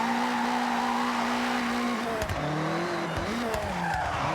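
Toyota AE86 drifting through a touge corner in Forza Horizon 6, a sustained engine drone with shifting pitch as the throttle is caught, broken by sharp tire squeals and skid bursts, loud and close with no talking.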